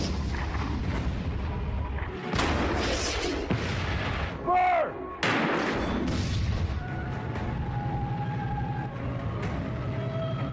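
Heavy booms and rolling blasts of a World War II tank battle, German tanks under attack by American vehicles, with loud artillery explosions and gunfire thudding in clusters under ongoing dialogue and battle din.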